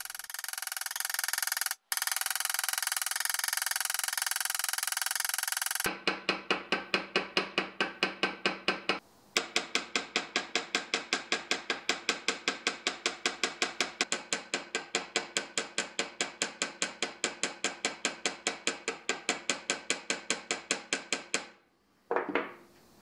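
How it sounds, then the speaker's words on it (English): A hammer peens metal pins set into the bolsters of a forged recurve hunting knife, a long run of rapid, evenly spaced metallic taps, close and loud, after a brief bout of broadband noise, with a short pause midway. "I peen the pins immediately before the epoxy cures."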